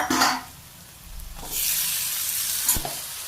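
Onion and tomato frying with cumin in a pan, starting with a sharp hiss, easing to a low simmer, then swelling into a loud, sustained sizzle with a brief clank of a utensil.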